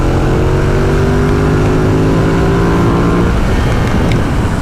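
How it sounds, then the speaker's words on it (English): A Ducati XDiavel cruiser motorcycle revving at full throttle, a loud, close engine roar rising steadily in pitch as it accelerates, then settling into a rougher drone. "So you see, you turn the throttle and things turn blurry really fast."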